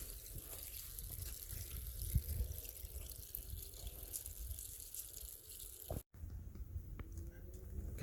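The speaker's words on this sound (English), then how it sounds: "Now we're going to completely water it in, so that way any air pockets or any loose dirt can settle." Water pours from a hose onto a newly planted Hass avocado tree, a faint continuous trickling and splashing into soil with a brief dropout near the end.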